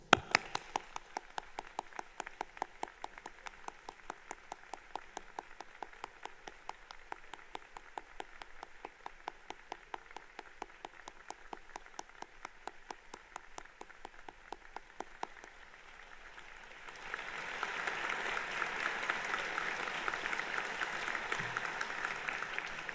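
Audience at a university spring convocation morning ceremony applauding the graduates, a long sustained run of clapping that swells louder and denser near the end.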